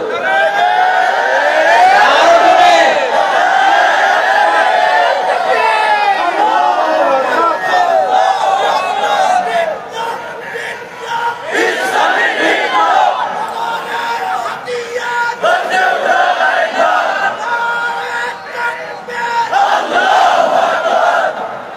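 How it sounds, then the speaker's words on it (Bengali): A large crowd loudly chants the takbir slogan in repeated waves, many voices in unison with yells rising and falling across the whole span, swelling and easing in bursts. "আমাদের স্লোগান হলো তাকবীর।"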